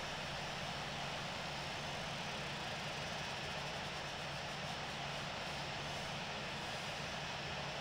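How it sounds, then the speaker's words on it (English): Twin jet engines of a CRJ-700 airliner spooling up on a takeoff roll in the Infinite Flight simulator, a steady, loud broadband roar with a constant hum, unchanging for the whole stretch with no talk. "Envoy 5491 is taking off runway 7 left"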